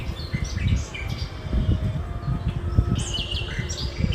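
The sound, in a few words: birds chirping at a pandal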